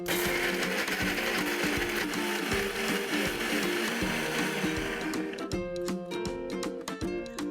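A mixer grinder whirs steadily as it grinds onion, tomato, garlic and ginger into a masala with no water added, then cuts off partway through, leaving a faint background tone.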